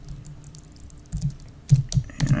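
Keystrokes on a computer keyboard while working in WordPress, sparse soft taps at first, then louder and quicker clusters near the end, close to the mic with no speech.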